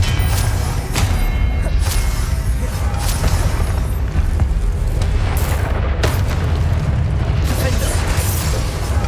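Repeated explosive blasts from the Confringo fire spell in Hogwarts Legacy, dense booming bursts over a loud continuous game-battle roar that runs the whole time, with sharp spikes of impact.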